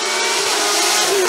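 Norma M20F prototype race car with a 3-litre engine on a hill climb course, a loud, continuous high-revving engine note passing close by with no break.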